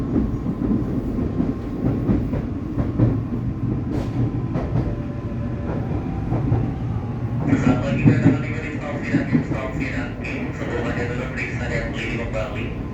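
Inside a new KRL SFC120-V commuter train, the cabin carries a steady low rumble of running wheels and motors, with faint rail clicks and a brighter hiss building midway.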